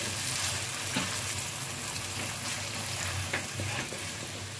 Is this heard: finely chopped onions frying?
yes